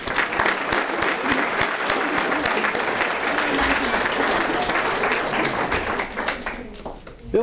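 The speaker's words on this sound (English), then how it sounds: "that, ladies and gentlemen, is certainly worthy of a round of applause" Sustained applause from an audience at a Rotary excellence award ceremony, dense clapping held at a steady loud level for several seconds before tapering slightly at the end.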